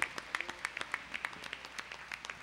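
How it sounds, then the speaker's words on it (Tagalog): Applause from a worship congregation at an El Shaddai gathering, a short burst of scattered hand claps, fairly faint and uneven, with individual claps standing out over a soft background. "Tunog na palakpak sa buhay na Diyos."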